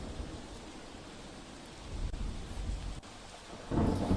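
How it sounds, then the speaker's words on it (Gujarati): Heavy monsoon rain pours steadily over Nizar taluka in Tapi district, Gujarat, with low thunder rumbling through it and a louder surge of downpour near the end, no voices heard. "હવામાન વિભાગની આગાહી પ્રમાણે તાપીમાં વરસાદ વરસી રહ્યો છે।"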